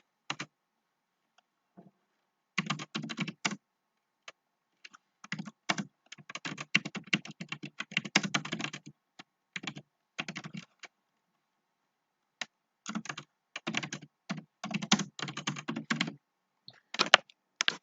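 Fingers tap on a computer keyboard in quick bursts of clicking keystrokes, separated by short silent pauses, close and clear with no voices.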